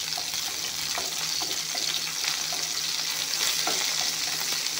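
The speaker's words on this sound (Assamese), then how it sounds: "পিঁয়াজখিনি অলপমান ভাজি ল'ম।" Onions frying in a pan with panch phoron, a continuous close sizzle with light, irregular stirring taps, no voices.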